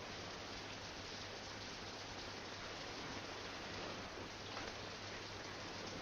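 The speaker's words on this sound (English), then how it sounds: "It's raining." Steady rain falls as a dense, even hiss that stays constant throughout with no pauses, no voices and no other distinct sounds.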